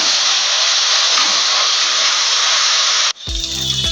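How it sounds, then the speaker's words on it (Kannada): Ginger garlic paste fries in a pan of onions for a dry fish curry, giving a steady, loud sizzling hiss that cuts off abruptly near the end into a different tonal sound. "ನೀಟಾಗಿ ಹಸಿ ವಾಸನೆ ಹೋಗೋವರೆಗೆ ಫ್ರೈ ಮಾಡ್ಕೊಳ್ಳೋಣ"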